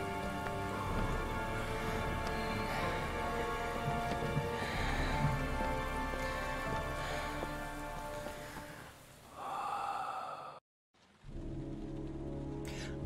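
Steady rain pours in the video game Heavy Rain, a dense, hissing patter on surfaces with a musical score underneath, cutting briefly to silence near the end before the rain resumes.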